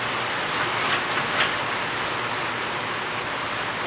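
Steady rain falls on a home during a light shower in hot weather, a dense even hiss throughout with no break or voices.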